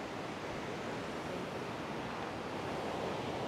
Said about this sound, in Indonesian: ini dia ya, air terjun Laumentar.